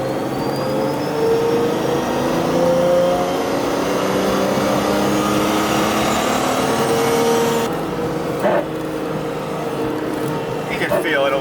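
A turbocharged 1JZ-engined Nissan Silvia pulls hard under acceleration, steady loud engine drone with rising whine from the turbo spooling, heard from inside the car with people talking over it.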